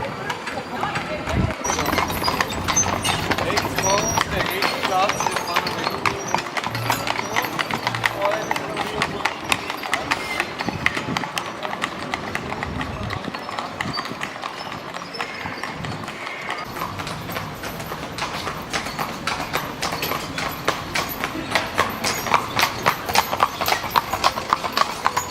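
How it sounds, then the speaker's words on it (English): Horse-drawn carriages roll along Vienna's Ringstrasse, hooves clip-clopping steadily on the street amid busy city ambience, with people talking nearby. "There are always lots of carriages passing through this area of Vienna."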